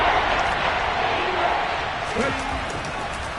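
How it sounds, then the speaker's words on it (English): A football stadium crowd roars steadily during a Buccaneers game at the Panthers, a broad, dense wash of cheering that holds throughout, with faint commentary beneath it. "That just means this crowd's going to get even louder."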